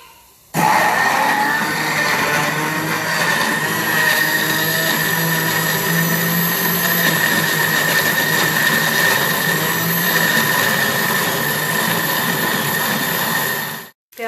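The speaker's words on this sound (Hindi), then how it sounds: "बाकी मसालों को मैं एक साथ ही ब्लेंडर में ब्लेंड कर लूँगी।" A blender grinds tomatoes, garlic, ginger, green chillies and spices into a paste, a loud, steady motor whir running unbroken for about thirteen seconds before cutting off abruptly.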